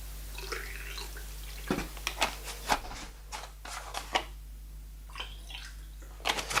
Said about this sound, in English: the next step is going to be a quick rinse with the water